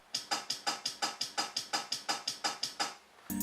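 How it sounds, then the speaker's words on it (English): Hi-hats in a hip-hop beat tick out a steady, even pattern of about fourteen crisp, bright hits with short decays, close and alone, ending on a brief louder burst. "So the hats sound like this."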